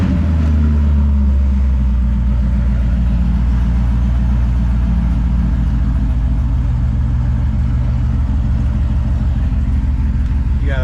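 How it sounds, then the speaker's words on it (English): A 2013 Corvette Grand Sport engine fires up loudly close by, then settles into a deep, steady rumbling idle that carries on without pause. "But we'll start the car real quick."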